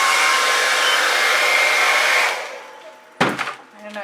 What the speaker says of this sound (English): I get in the middle of trying to turn that blow dryer off and it just seems like it's uncooperative every time